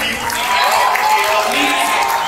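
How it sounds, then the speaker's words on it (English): Audience at a YouTube FanFest creator camp applauding and cheering, a dense sustained clapping crowd with voices mixed in. "Let's first give a huge round of applause for Prajakta"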